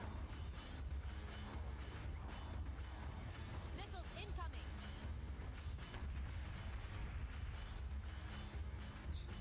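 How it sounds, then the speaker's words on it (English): Missiles launching and detonating in the space combat game Battlestar Galactica Deadlock, a dense, steady roar of explosions and booming fire with a few brief whistling streaks midway, loud and continuous throughout. "Missiles away."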